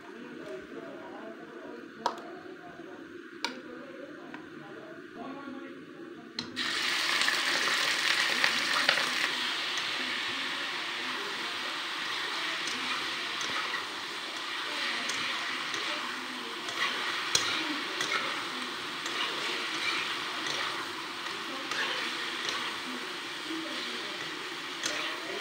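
Pieces of broiler chicken meat hit hot oil in a home kitchen pan, a sudden loud sizzle that settles into a steady crackling fry, with occasional stirring ticks throughout.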